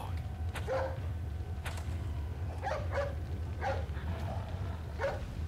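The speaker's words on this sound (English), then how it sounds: "Hey, it's that dog." Short yips and barks from the dog in Resident Evil 4 HD, a few scattered bursts over a steady low game ambience, moderately close, with no talking.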